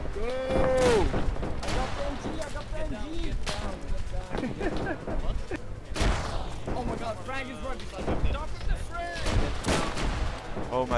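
Dense machine gun and rifle fire in Arma 3 during a World War One trench battle, continuous overlapping bursts and shots for the whole stretch, with voices mixed into the din.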